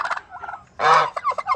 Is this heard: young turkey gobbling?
yes